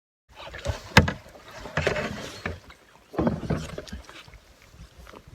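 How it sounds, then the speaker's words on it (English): A canoe is paddled in the high country, with a few uneven splashing, sloshing strokes through the water, close by and separated by short pauses, with no talking. "Yeah, I'm paddling on the portages down."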